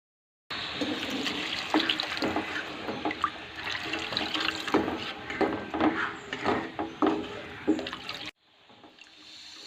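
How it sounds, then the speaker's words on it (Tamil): Water pours steadily into a pot of fish curry with clinks and scraping of stirring, close and continuous, then stops abruptly into a quieter room. "இதோட கொஞ்சமாக தண்ணி சேர்த்து நல்லா கலக்கி விட்டுக்கலாம்."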